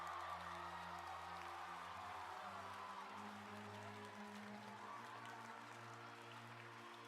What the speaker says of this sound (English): Oh, there's the sound of people cheering.